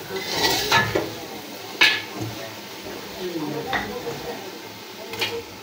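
A metal spoon scrapes and clanks against a pot while spice paste is stir-fried for beef, several sharp knocks at irregular intervals over a soft background, with speech in places.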